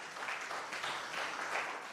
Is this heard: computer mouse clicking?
no